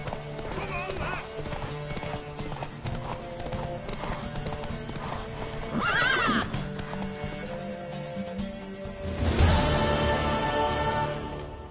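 Rapid hoofbeats of a galloping horse in a race in The Witcher 3: Wild Hunt, with a shrill whinny partway through and another neigh near the end, over music and a voice talking.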